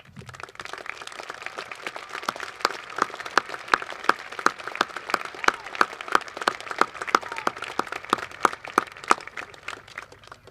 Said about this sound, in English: let's give a big warm round of applause and thank them for their dedication to our students